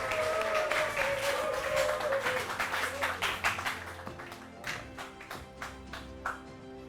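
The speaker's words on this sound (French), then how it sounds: "Monsieur Satina, sous vos applaudissements" Comedy show crowd applauding as comedian Monsieur Satina comes on, a full burst of clapping that thins into sparse individual claps, with a tonal sound in the background early on.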